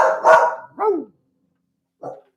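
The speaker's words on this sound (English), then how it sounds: "little LB barks and he takes it up a notch" A small dog barks three times: two quick, close barks followed after a pause by a shorter, softer one, with nothing else heard between them.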